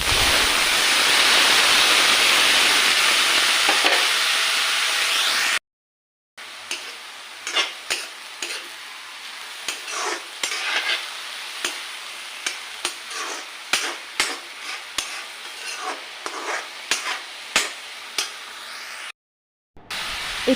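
Chopped banana flower frying in a pan with turmeric, loud close sizzling at first, then a cut and a run of scraping stirring strokes with quieter frying beneath.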